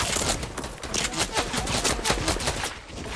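Dense, rapid video game gunfire from an AK rifle and pump shotgun crackles almost nonstop, loud and close, with overlapping shots and a busy battle din throughout.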